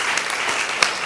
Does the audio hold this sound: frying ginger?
no